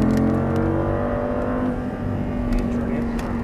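An Audi R8 engine roars under full throttle on a track, a close, sustained drone with a strong steady pitch while a driving instructor talks over it.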